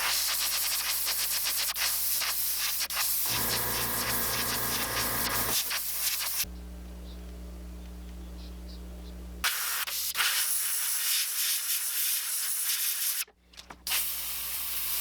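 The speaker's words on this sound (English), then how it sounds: "I sprayed white behind what I wanted to be blue, so that's helped." Spray paint hisses in bursts onto a bluegill-patterned fishing lure, close and loud, with a brief pause and changes in nozzle pressure between sprays.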